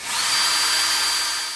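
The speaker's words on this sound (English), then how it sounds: "I want to be able to judge how deep I am actually drilling with the drill bit" A power drill with a drill bit bores into a metal shaft from a BMW throttle actuator during a gear repair, a steady high whine held for over a second, close and loud, with no talking.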